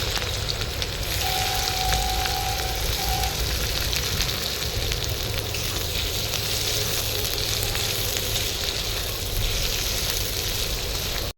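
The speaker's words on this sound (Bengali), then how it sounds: "পেঁয়াজগুলো দিয়ে দিচ্ছি পেঁয়াজগুলোকে ভেজে নেবো" Onions fry in hot oil with a continuous loud hiss and sizzle, steady and close for the whole stretch, no talking, outdoors on a riverbank.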